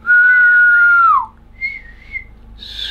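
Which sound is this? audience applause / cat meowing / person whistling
person whistling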